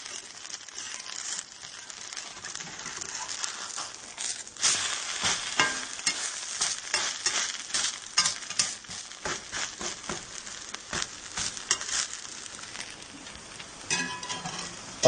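A potato pancake frying in a cast iron pan, giving a steady close sizzle with scraping and crinkling as it is lifted and turned, with no talk.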